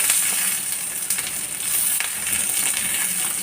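Fresh curry leaves drop into hot oil left from frying fish, a dense crackling sizzle close by that continues without pause and without voices.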